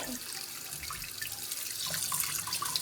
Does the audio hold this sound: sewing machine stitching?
no